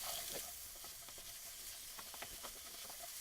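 Raw chicken stirred in a pot for curried stew gives a faint steady sizzle with soft, scattered scraping clicks of the spoon against the pot.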